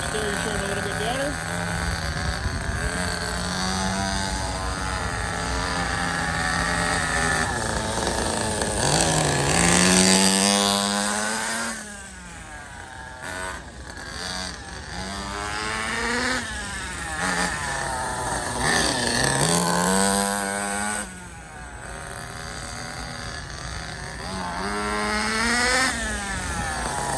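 A Schumacher Havoc 28 Big Block nitro RC car engine screams and revs in repeated rising and falling bursts, loud and continuous, with a brief dip before each new acceleration.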